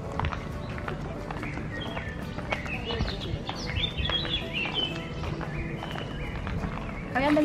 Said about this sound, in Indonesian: Kalian dengar nggak suara burung-burung berkicau?